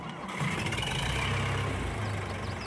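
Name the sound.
tractor engine idling, Farming Simulator 22 video game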